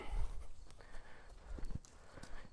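Hooves of a 2-year-old Oldenburg horse moving laterally in training, a series of soft irregular thuds on footing, close and fairly faint.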